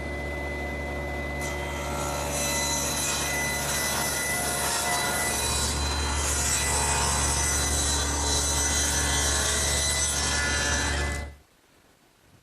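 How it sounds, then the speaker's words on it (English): A table saw with its blade tilted to 10 degrees rips a bevel along a wooden colonial fence stringer, a loud sustained cutting drone and whine that holds steady and then stops abruptly near the end. "So I've set up my table saw, tilting the blade to 10 degrees and setting the rip fence."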